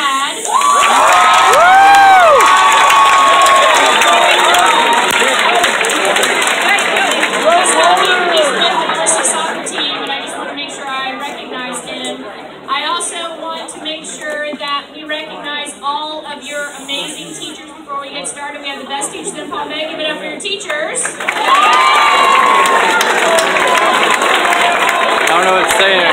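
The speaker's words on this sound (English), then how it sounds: "I want to give a huge round of applause to a student who just made All-State band." A school gym pep rally crowd cheers and applauds a student, with loud whoops and shrieking voices swelling, dipping into mixed chatter and clapping midway, then surging back to full cheering near the end.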